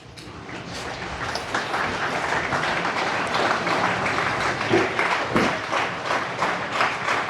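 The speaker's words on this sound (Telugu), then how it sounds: "so all children stand and claps to all parents" Children at a parents-teachers school meeting stand and clap for their parents, a dense, steady crowd applause of many hands that fills the room throughout, close and loud, with a few louder thumps near the end.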